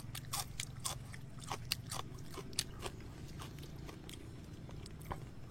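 Crunchy bites and chewing on tough stems of an edible Vietnamese flower, close to the mouth, with irregular crisp clicks over a steady low murmur and no talking.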